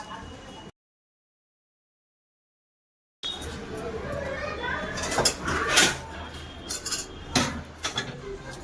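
A metal kadai is set down on a stove for cooking dal, giving a few close metallic clanks and scrapes after a brief silent gap, with a voice talking.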